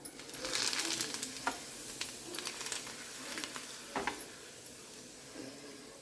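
Papad (vadiyalu) frying in hot oil, a soft steady sizzle broken by sharp crackles and pops, some louder bursts near the start that ease off, with no talking.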